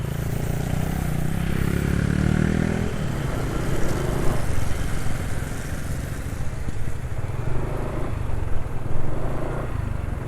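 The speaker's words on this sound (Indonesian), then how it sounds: "Suara mesin kasar ya sayangnya." A two-stroke motorcycle engine runs rough with thinning oil while riding, a loud continuous buzzing drone with uneven pulsing and slight rises and dips in pitch, steady throughout.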